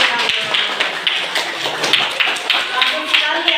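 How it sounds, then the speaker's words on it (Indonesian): Children clapping their hands in a school classroom, a brisk patter of many small hand claps running continuously. Close and fairly loud, with some voices mixed in. "Tepuk tangan."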